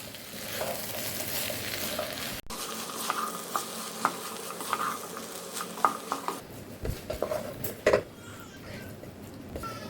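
Vegetable samosa filling is stirred in a pan with a spoon, soft sizzling under irregular scraping and clinking of utensil against metal, close and fairly quiet, with no talk.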